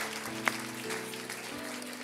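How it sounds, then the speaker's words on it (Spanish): A congregation applauding during a Friday church service, a dense, steady wash of clapping with one sharper clap standing out over sustained musical tones. "Denle un aplauso al Señor, hermano."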